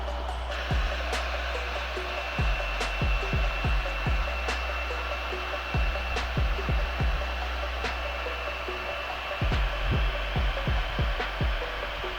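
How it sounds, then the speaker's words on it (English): A hair dryer blows with a steady, whooshing hum throughout, with scattered light clicks and taps on top. "I'll go get the hair dryer."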